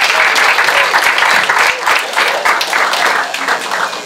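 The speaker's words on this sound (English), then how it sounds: "Round of applause for Dominique Malloy." A crowd at an LFL awards night gives a round of applause for Dominique Malloy, loud sustained clapping from many hands that carries evenly throughout and tapers slightly at the end.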